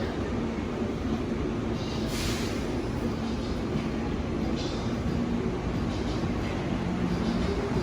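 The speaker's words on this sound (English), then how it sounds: "The plane train is operating in a reduced service mode" Atlanta Hartsfield-Jackson airport's Plane Train people mover rumbles steadily throughout, a loud, even rail roar with faint brief hisses on top and no voices.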